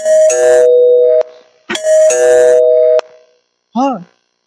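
An electronic doorbell rings twice, each long, loud two-tone chime ringing on before fading, followed by a short sung or voiced rising-falling tone at the end.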